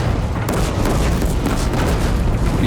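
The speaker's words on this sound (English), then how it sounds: "Being bombarded." Heavy bombardment in the game Horizon Zero Dawn Remastered, a continuous loud low rumble of blasts with a sharp crack near the start, dense and unbroken throughout.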